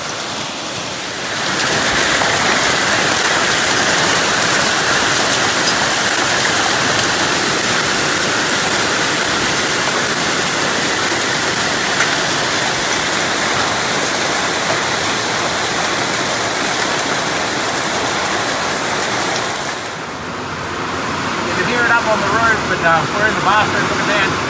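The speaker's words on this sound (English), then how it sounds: "So you can see the small hail stones falling down at the moment." Heavy rain mixed with small hail falling outdoors during a sudden flash storm, a dense, loud, continuous roaring hiss that holds steady for about twenty seconds before briefly easing and returning with some patterings.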